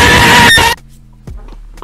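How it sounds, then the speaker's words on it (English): A man screams into a microphone, a loud harsh distorted yell lasting under a second, followed by quiet room noise and a couple of faint knocks. "He just screams at the mic"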